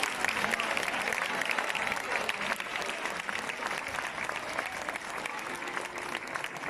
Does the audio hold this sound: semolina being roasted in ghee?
no